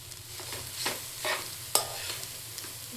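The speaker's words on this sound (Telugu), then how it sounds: "దీన్ని పైకి కిందకి టాస్ చేసుకుందాం" Noodles and vegetables tossed in a pan for egg fried noodles, heard as a few soft scraping and stirring sweeps over a low background, with one sharper clink near the middle; no voices.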